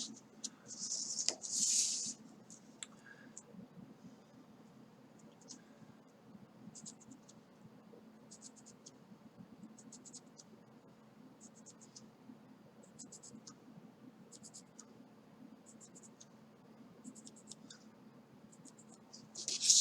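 A pencil drawing lines on paper with a ruler, giving faint, crisp scratching strokes in short repeated bursts over a quiet room hum, close to the listener.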